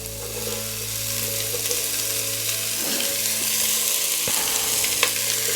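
Chopped onion hits hot oil in a pan for chili con carne, a loud steady sizzle and crackle that swells around the three-second mark and keeps frying continuously, with no talking.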